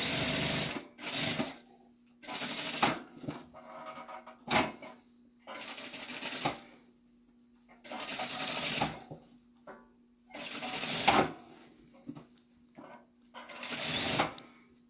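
A home sewing machine stitches two fabric pieces together with a 1 cm seam allowance, running in short steady bursts separated by pauses, with someone speaking French quietly in between.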